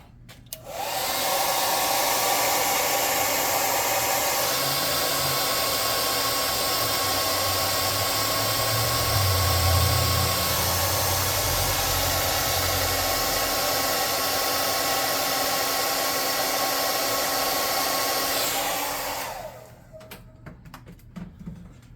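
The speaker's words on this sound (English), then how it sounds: "I'm gonna hit that with the hair dryer." A hair dryer blows continuously at full power for about eighteen seconds with a steady high whooshing hum, then switches off abruptly.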